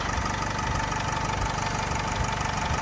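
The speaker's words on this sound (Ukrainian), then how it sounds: "Мотор працює просто відмінно, я думаю, тут чути." A 2011 Renault Trafic van's 2.0-litre engine idles steadily up close, a smooth, even rumble with a constant low hum and no voices.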